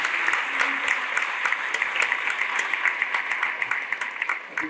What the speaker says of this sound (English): Let's give it one more round of applause to Mrs.